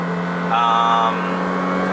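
A Ferrari F355 convertible's 380-horsepower flat-crank V8, which revs to about 8250 rpm, holds a steady, close engine tone that swells briefly in the middle of a short stretch.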